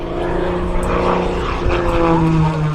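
Aerobatic propeller airplane climbing high during a 2023 air show performance in Columbus, its steady loud engine drone filling the air continuously, with a faint commentator voice in the background.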